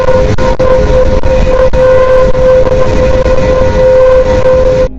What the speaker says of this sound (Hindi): ये है प्लूटो की आवाज।